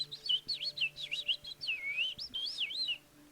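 A voice imitates nightingale song in a rapid run of high, warbling whistled chirps with swooping pitch, loud and close, then fading to quiet.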